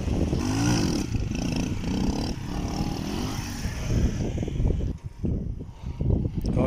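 A motorcycle engine revs and roars while a rider practises lifting the front wheel into a wheelie, loud and close at first, then rising in uneven bursts with some clatter toward the end.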